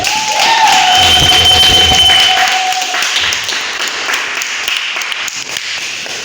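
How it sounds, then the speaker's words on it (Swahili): A church congregation breaks into loud applause praising the Lord, dense clapping filling the room with some cheering and a brief whistle-like tone, then fading to scattered claps. "Shangilia Bwana Yesu kwa makofi."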